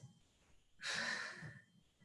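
A single strong, breathy exhale during a core exercise on a mat, rising suddenly, holding for about a second, then fading, with quiet soft breathing around it.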